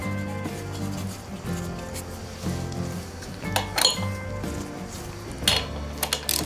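Flywheel screws go onto a Renault Clio 1.8 16v during a clutch kit replacement, making sparse metallic clinks and short ratcheting clicks close by over steady background music.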